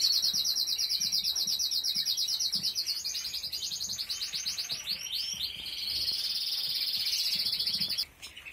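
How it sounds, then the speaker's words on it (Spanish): Many caged birds packed together in an aviary chirp and call in a dense, continuous chorus of rapid high tweets, close and loud. "los pájaros aquí se estresan"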